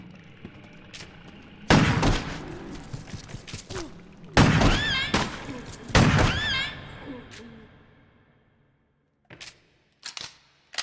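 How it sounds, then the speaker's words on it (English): Shotgun blasts in the Crow Country horror game, three loud booming shots a couple of seconds apart, each with a ringing tail, followed by quieter thuds and clicks near the end. "Use the shotgun."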